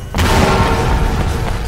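Rigged explosives detonating in a burning building in Sleeping Dogs, a sudden loud boom followed by a sustained rumbling roar close by.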